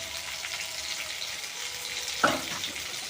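Potato and eggplant fry in a pan with a steady close sizzle, broken near the end by one brief sharp clatter as the pieces are stirred or shifted.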